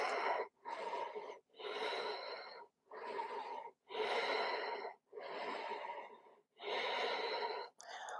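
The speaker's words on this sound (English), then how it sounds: "5 deep breaths." Deep, slow breathing during a vinyasa yoga flow, seven or eight long audible inhales and exhales in an even rhythm, close and clear, with brief silent gaps between breaths.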